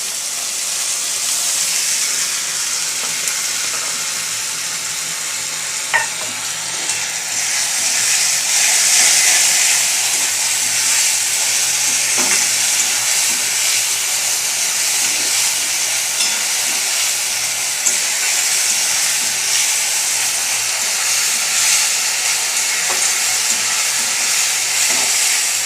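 Tomato, onion, green chili, garlic and ginger paste fries in hot oil, a steady loud sizzling hiss that holds throughout, with a few faint clinks of stirring and no talking.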